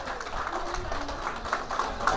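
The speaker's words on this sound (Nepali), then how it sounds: "कृपया ताली बजाइदिनु होला।" A hall audience at a Tamu Lhosar ceremony claps for a guest taking his seat. The applause is steady, dense and moderately loud, with a busy crowd murmur underneath throughout.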